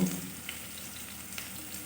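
Sliced onion, garlic and ginger sizzle gently in oil, a soft, even frying hiss with a few faint clicks and no talking.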